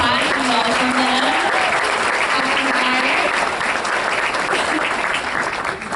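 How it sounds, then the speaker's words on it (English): Loud, sustained applause from a gathered crowd at a party presentation, dense clapping filling the room while a voice is faintly heard underneath early on. "let's give them a big round of applause and welcome them."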